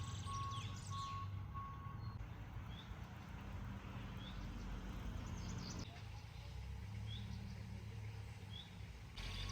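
Reversing beeps from vehicles on a construction site near a bus stop, heard as short repeated tones in the first seconds over a steady traffic rumble, with faint bird chirps scattered through.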